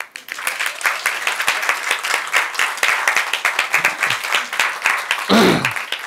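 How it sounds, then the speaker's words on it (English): Audience clapping at a Melaka anniversary teaching event, with distinct individual claps forming a brisk, uneven rhythm and a brief low thump near the end. "There, James Young, clap."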